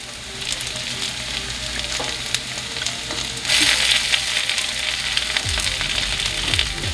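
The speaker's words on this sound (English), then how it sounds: "I'm going to add some tomato paste." Tomato paste hits a one-pot pan of frying garlic mushrooms and chili flakes, setting off loud, dense sizzling that surges midway, while a spoon scrapes and clinks against the pan close up, with no one speaking.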